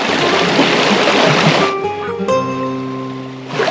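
Mountain river in Tara National Park, Serbia, rushing loudly and close for under two seconds before abruptly giving way to sustained tonal sounds.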